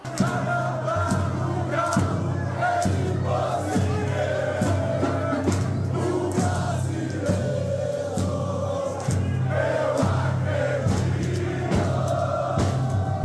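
Football supporters of Galo (Atlético Mineiro) fill a stadium with sustained, loud crowd noise during a match against Grêmio, a dense roar with rhythmic swells suggesting a collective chant.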